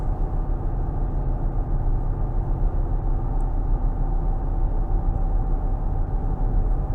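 Steady, broadband road rumble inside a moving 2023 Nissan Pathfinder Rock Creek, a continuous low roar of off-road tires on pavement with no voices.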